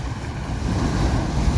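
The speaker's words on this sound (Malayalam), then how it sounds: "നല്ല ഹൈറ്റിലാണ് തിരമാലകൾ കാണാം" High sea waves surge onto a shore where a coastal road and new breakwater have been washed out, a loud broad roar of surf mixed with gusting wind buffeting the microphone, with no talking.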